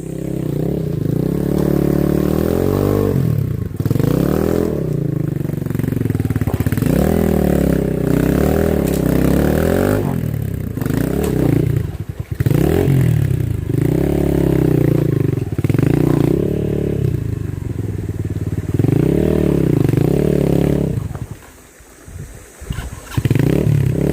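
A Microbike MX 150 motorcycle ridden on a rough trail to Kinabuan Falls in Tanay, its engine loud and close, revving up and down repeatedly with clatter and scraping, cutting out briefly near the end.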